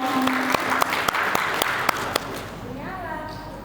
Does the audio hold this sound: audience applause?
yes